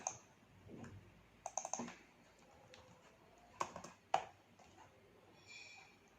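Python code being typed on a computer keyboard: sparse, quiet key clicks in small clusters with longer pauses between them, close by and alone without any voices.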